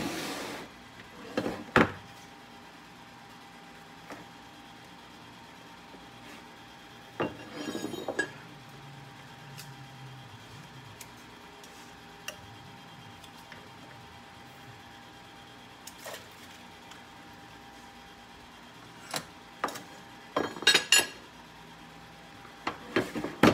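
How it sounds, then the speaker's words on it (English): Lure molds are closed up in a series of sharp metallic and glassy clinks and clacks, scattered clusters of handling knocks separated by quiet stretches, close and fairly faint. "Now I'll do is close the molds up and then shoot them"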